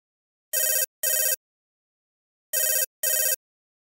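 Outgoing phone call ringback tone: two double-pulse rings, each pair of short electronic bursts separated by about two seconds of silence, clear and isolated with no talking.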